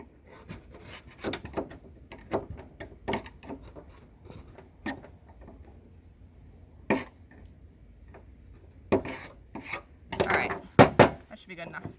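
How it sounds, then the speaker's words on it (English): A screwdriver scrapes and rubs along the wooden nooks of a honeybee brood frame built from plastic foundation, producing scattered close scratchy strokes and taps, some sharper clusters near the end, with quiet gaps between. "So I just make sure I run my screwdriver, get in all of these nooks and crannies here."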